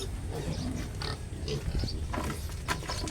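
A sow and her piglets grunt, squeal and oink continuously at close range, the overlapping calls forming a busy, noisy pen chorus.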